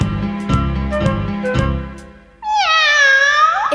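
A cat in a kitchen lets out a long, loud, wavering meow, preceded by a few rhythmic musical beats and tones.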